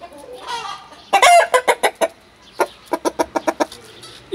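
A rooster blind in both eyes clucks in a rapid series of sharp, close calls, two bursts separated by a short pause, with a brief squawk near the start.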